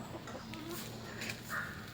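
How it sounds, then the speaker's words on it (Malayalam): A rooster clucks softly a few times nearby against a quiet outdoor background. "നമ്മുടെ പൂവൻ കോഴി"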